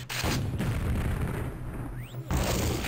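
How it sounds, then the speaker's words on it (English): Rocket blasts in a fast Quake-style deathmatch grand final, heard as a dense, continuous barrage of booming explosions and gunfire lasting throughout, loud and close, with a brief dip near the end before firing resumes. "Oh, that's a nice rocket."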